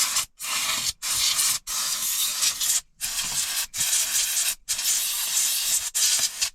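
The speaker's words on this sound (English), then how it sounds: "I got a couple of tins of this air duster" Bursts of compressed air duster sprayed from a tin, about seven sharp hissing blasts of roughly half a second to a second each, separated by brief silences, loud and close.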